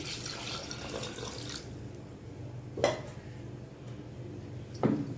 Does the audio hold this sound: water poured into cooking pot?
yes